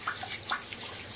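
Water running from a tap while dentures are rinsed, a faint, steady splashing hiss with a few brighter spatters and drips, close by and without any talk.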